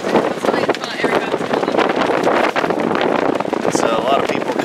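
Gusty wind buffets the microphone at a boat parade on open water under dark clouds. It gives a continuous loud rumble, and voices talk over it throughout.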